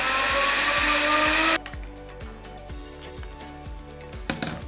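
A blender whirs loudly through shallot, garlic, basil, salt and olive oil for about a second and a half, then cuts off, leaving a regular thudding pattern and faint clatter.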